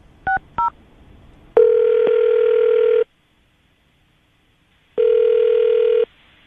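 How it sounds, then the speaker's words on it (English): Two short keypad tones sound on a telephone, then a long steady dial-type tone, a pause of silence, and another shorter steady tone, all loud and clear with no talk. "I'm going to dial the number now, see if we can get her on the phone"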